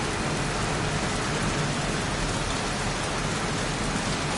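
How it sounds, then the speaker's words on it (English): Steady, dense rain from the Heavy Rain video game, a constant loud hiss of falling water with no break or variation, and no talking. "Goddamn rain, soaking wet."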